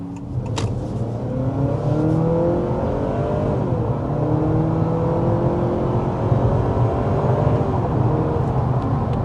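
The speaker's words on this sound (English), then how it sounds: "let's start with a hard acceleration" A 2026 Honda Accord hybrid under hard acceleration, its engine note rising steadily in pitch, dipping briefly as it shifts, then climbing again, loud, continuous and close, with no talking.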